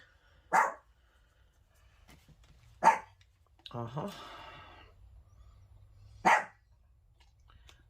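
A Chihuahua barks indoors from her bed, sharp single barks spaced a few seconds apart, with a scraping tool sound between them and a person murmuring briefly.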